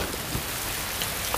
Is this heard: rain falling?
yes